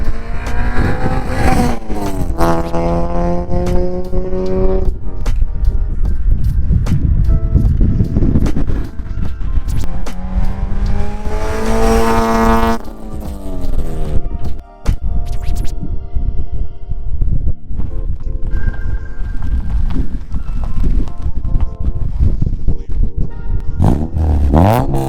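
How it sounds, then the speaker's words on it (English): An Acura TSX fitted with a 3-inch single cat-back exhaust drives past with wind and light traffic around, its engine note rising and falling in repeated revving sweeps, loud and close throughout. "Trying to get a couple of drive-by videos."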